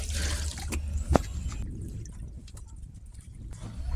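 Hand-washed laundry being rinsed in water in a tub or basin, with sloshing, splashing and dripping sounds close by, and a sharper splash near the middle, all without speech.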